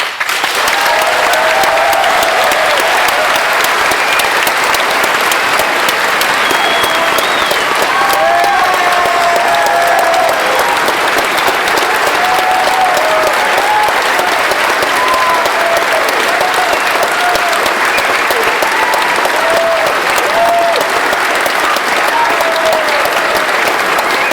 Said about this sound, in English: I never get applause like that in Washington.